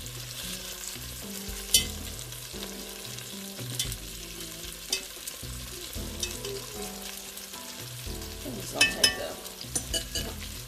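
Beef fries for a stew while it is flipped in a pan: a continuous sizzle broken by sharp scraping and clattering spatula strokes, with tonal background music running underneath.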